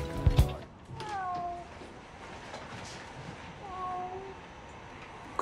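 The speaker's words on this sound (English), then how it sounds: "It's a fucking cat, you idiot." A cat meows twice, a drawn-out call near the start and another a few seconds later, moderately close over low background noise, with a brief thump at the very beginning.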